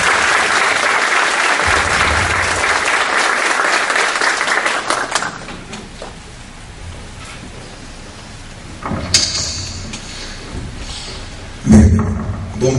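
An audience applauds to welcome the speaker at a law lecture on Brazil's Supreme Federal Court and criminal procedural guarantees. Dense, loud clapping fills the first five seconds, then tapers off into scattered room noise and a few brief knocks.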